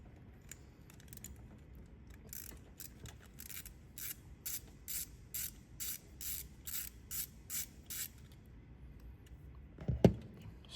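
Rapid ratcheting clicks from a socket wrench loosening the lower bolt of an ignition coil on a Golf GTI engine, in about a dozen even bursts across the middle, ending with a sharp metallic clunk near the close.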